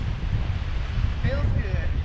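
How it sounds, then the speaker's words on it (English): Steady warm wind rumble buffets the microphone throughout, with faint voices or calls drifting in the background. "It's pretty windy today. Nice warm breeze."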